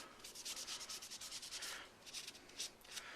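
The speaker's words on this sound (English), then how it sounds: "Just wiping off any crud you can find. Just wipe it all down." Tissue wiping down Sig 556 rifle parts, an AK-style operating system, gives a run of soft, quick papery rubbing strokes, close and fairly quiet, with short pauses between bursts.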